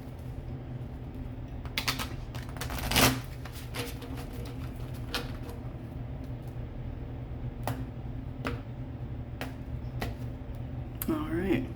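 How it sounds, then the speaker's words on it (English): A tarot deck is shuffled by hand, giving scattered soft clicks and card snaps at close range, with a quiet voice in the background. "One more shuffle after this."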